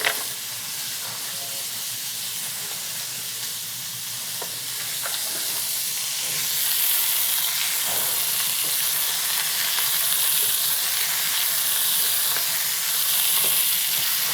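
Oiled, salt-and-pepper-seasoned fingerling potatoes sizzle on a grill, a loud continuous hiss of frying that holds steady and swells slightly, with no voices.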